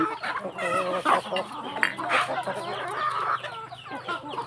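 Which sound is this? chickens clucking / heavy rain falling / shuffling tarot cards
chickens clucking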